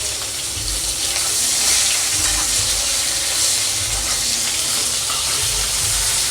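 Onion dropped into hot oil seasoned with panch phoron sizzles and fries steadily, a dense loud hiss that holds evenly throughout with no speech.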